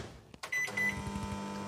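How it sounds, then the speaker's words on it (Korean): A microwave oven heating a cup of water starts up with a few clicks and a short beep, then settles into a steady low electrical hum with a faint rattling turntable drone. "먼저 물 한 컵이고요, 전자레인지에 45초 동안 돌려줍니다."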